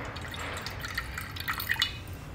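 Water drains from a bowl of soaked urad dal with faint, scattered drips and trickles over a soft, steady background hiss and no talk.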